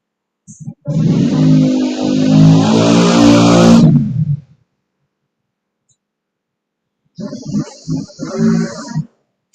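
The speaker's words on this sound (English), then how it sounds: "there's a motorbike going by" A motorbike roars past close by, its engine loud and steady for about three seconds before cutting off, followed by a pause and then a few seconds of someone talking.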